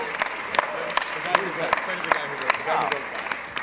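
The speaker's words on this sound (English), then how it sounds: "a round of applause" Audience applause at a hacker awards ceremony, scattered sharp claps rising from a room with crowd murmur underneath, moderately distant.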